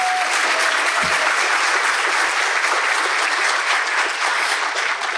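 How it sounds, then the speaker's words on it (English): Audience applause at a university president's fall address, steady dense clapping from a large crowd filling the room, sustained without letup. "Let's give her a round of applause."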